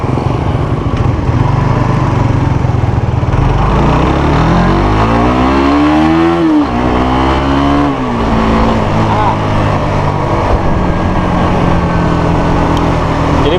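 A Suzuki GSX-S 150 motorcycle, recorded while riding, revs up through the gears with rising engine whine and quick shifts, loud and continuous under heavy wind rush.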